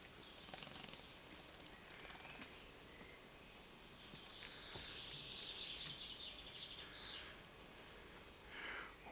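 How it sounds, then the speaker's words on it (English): A small bird about ten feet away chirps in short high bursts near a spring-fed trough on a North Cornwall coastal walk, the calls clustering toward the end over faint outdoor background. "This little bird's about 10 foot in front of me."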